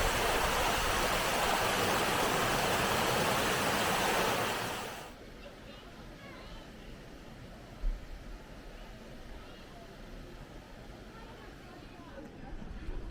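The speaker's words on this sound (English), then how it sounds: "the local river is flowing quite fast today" Fast-flowing local river swollen after several days of rain, heard as loud, steady broadband rushing water for about five seconds before it drops to a quieter, distant flowing hiss.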